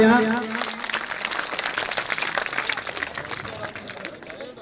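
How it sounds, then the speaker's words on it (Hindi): An audience at a village school's annual function and donor-honouring ceremony gives a hearty round of applause, sustained crowd clapping that follows a brief announcer's voice at the start. "इनके लिए जोरदार तालियां"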